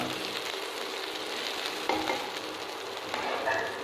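Onion and capsicum frying in a pan for white sauce pasta, a steady close sizzle with a few utensil scrapes from stirring, no talking.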